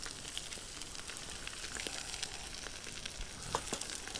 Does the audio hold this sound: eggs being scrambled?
yes